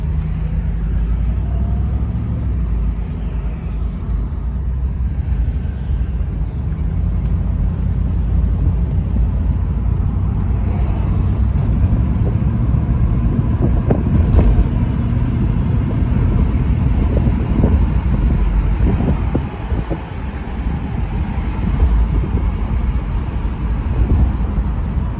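Steady road rumble from a 1984 Mercedes 380SL R107 cruising on a freeway, a continuous low drone with wind and tire noise that holds fairly even for the whole stretch, with no voices.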